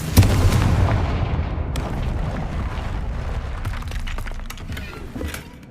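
A Confringo spell in the video game Hogwarts Legacy goes off as a deep, booming explosion that rumbles, then fades over several seconds with scattered crackles and debris sounds.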